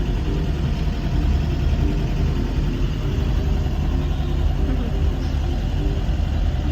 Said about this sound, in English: The bus is a lot more noisy without all the stuff in the back. You can kind of hear the engine.